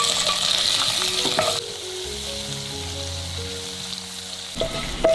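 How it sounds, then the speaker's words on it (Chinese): Dried cuttlefish sizzles as it is stir-fried in a pan with a little oil, with a steady close frying hiss, a louder opening stretch and occasional scraping stirs, and no talk. "水平锅加少许油，把墨鱼干放进来炒香"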